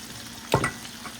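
A brief soft splash and hiss as shrimp drop into hot oil in a pan, over a steady low sizzle.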